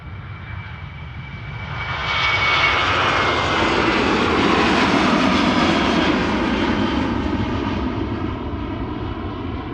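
A 19-year-old Boeing 737-800 jet departing Amsterdam Schiphol airport roars loudly, its engine noise swelling after two seconds into a broad, sustained rumble with a steady whine, holding strong before easing slightly as it passes.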